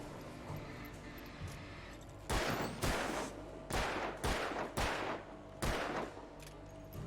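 Gunfire in the video game Alan Wake: about six loud, separate bursts of shots in quick succession, each sharp and booming over a low background, with no voices.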